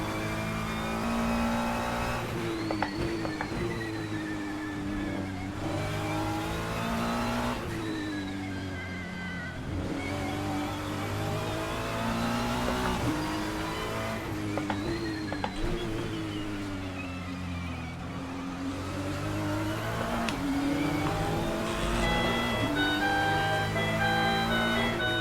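A race car engine on the Qatar circuit in Le Mans Ultimate, a racing video game, revs and shifts repeatedly, pitch climbing and dropping through gears, loud and continuous with no talk.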